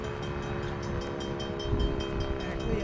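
A westbound CN L571 freight train rolls past up close, a steady low rumble of railcars with rhythmic clicking of wheels over rail joints and a sustained horn tone above.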